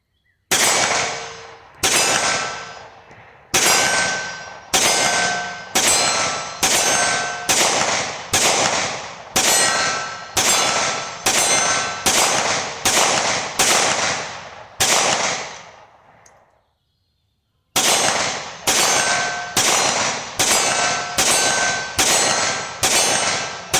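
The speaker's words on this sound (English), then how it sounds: "So I'm going to put a few rounds down range, as I've got the 15 round and the 12 round magazine." Keltec P15 pistol fired at steel targets, with about 27 loud, sharp shots in a steady rhythm, each followed by a ringing clang of steel, a brief pause partway through for a magazine change, and no talking.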